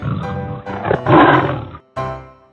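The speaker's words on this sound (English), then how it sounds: "Tiger." A cartoon tiger lets out a loud, sustained roar that swells in the middle, breaks off briefly, then returns with a shorter growl fading out at the end, with no talking.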